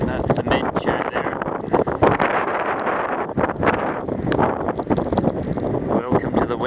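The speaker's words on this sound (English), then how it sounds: "We're being swept around with big gusts" Strong wind buffets the microphone in rough, uneven gusts on a boat off Scotland's west coast, roaring and rustling continuously, with a voice partly audible underneath.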